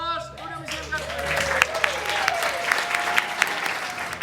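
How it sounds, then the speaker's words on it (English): A voice speaks briefly at the start, then a crowd of visitors at a Dodge City, Kansas historic Front Street show breaks into lively applause, with a few louder sharp claps standing out near the end. "How about a round of applause?"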